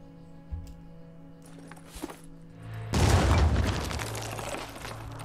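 A grenade explosion in the Phoenix Point video game hits midway as a sudden broad boom that swells into a sustained rumbling blast and slowly tails off, after a few quieter clicks and pops.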